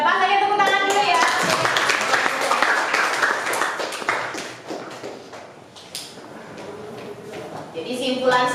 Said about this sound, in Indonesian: saya tepuk tangan dulu ya